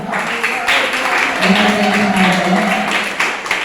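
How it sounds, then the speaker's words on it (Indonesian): A crowd of students at an Islamic boarding school debate applauds the pro and contra teams, with sustained clapping filling the room at close range, mixed with cheering and voices throughout. "Silakan tepuk tangan untuk tim yang pro maupun yang kontra."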